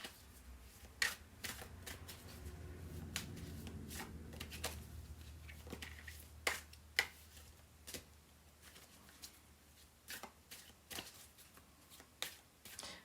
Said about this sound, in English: I know you can hear me shuffling.